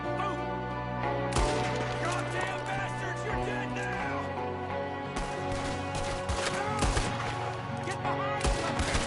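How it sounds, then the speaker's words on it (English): Gunfire in Red Dead Redemption 2 from a shooter at a window: repeated sharp cracks and rapid volleys over a sustained musical drone, with shots clustering in the second half. "There's another one shooting from the window."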